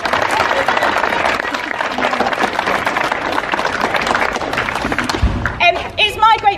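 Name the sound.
applause at London Fire Brigade passout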